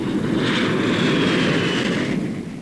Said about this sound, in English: Flying attack squadrons off his carrier deck.